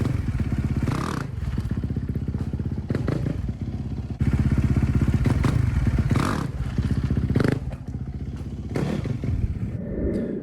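A motorcycle engine drones and revs during wheelie practice as the bike pops up and is brought back down with the brake, with repeated rising revs, clatters and thumps, close and continuous with no talking.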